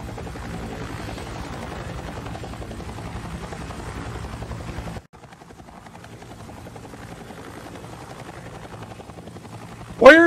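Helicopter from the console game World of Tanks spinning up, a steady loud rotor and engine drone for five seconds, then a softer, thinner whine that builds gradually, ending in a sudden sharp high-pitched effect.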